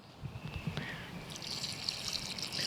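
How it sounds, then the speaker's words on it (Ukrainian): Water is poured over a garden bed of newly planted houseleeks, making a steady trickling and dripping splash throughout, close and moderately loud, with no voices. "Після посадки молодила нашу ділянку ретельно заливаємо."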